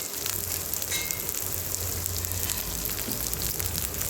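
Onion for potato patties fries in a pan with a continuous crackling sizzle, close and even in level, with no voices.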